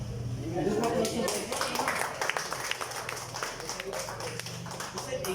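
A church congregation claps continuously in dense, uneven rhythm at a worship service, with a voice speaking over the applause throughout.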